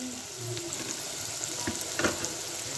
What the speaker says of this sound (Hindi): ये हमने भून लिया है